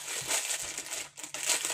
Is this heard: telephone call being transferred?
no